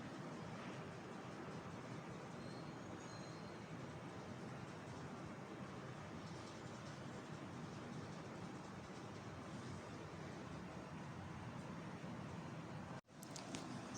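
Spinach qeema sizzles and fries in a pan over a high flame, a steady, faint, broadband hiss that carries on without a break, ending with a short clatter.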